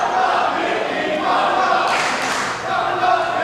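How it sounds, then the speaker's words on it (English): An independent wrestling crowd cheering and roaring in a packed arena, a dense sustained wash of voices that swells midway, with a commentator talking over it. "The crowd cheering on the Queen of Blood, Mickey Knuckles"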